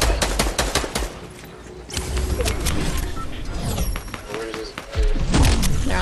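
Bursts of rapid gunfire in a Fortnite match, with repeated sharp shots and thuds at varying distances, mixed with players talking over the action.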